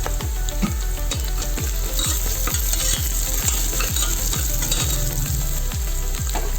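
Spices, ginger-garlic paste and turmeric fry in a pan. A loud, steady sizzle runs under rhythmic stirring scrapes, about two per second, close up, with no voices.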